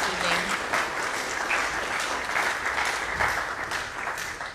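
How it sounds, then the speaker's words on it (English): An evening lecture audience gives a sustained round of applause, a dense, even clatter of many hands filling the room without pause, with faint voices underneath. "I would appreciate another round of applause for her contribution this evening."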